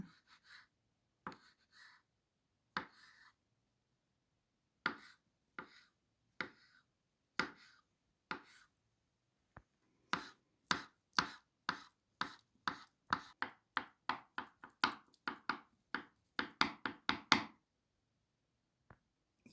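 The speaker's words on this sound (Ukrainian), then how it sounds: "Яйця теж дрібненько нарізуємо." A knife taps crisply on a cutting board while boiled eggs are finely chopped for an Olivier salad. Sparse strokes come first, then a quicker, steady run of sharp, close-up chops, with no talking over them.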